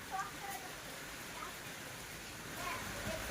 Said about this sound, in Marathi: तर पाऊस पडतोय नॉर्मल आहे जास्ती मोठे पण नाही आणि बारीक पण नाही